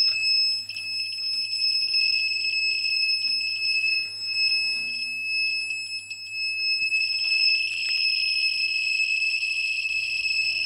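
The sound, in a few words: dosimeter watch beeping radiation warning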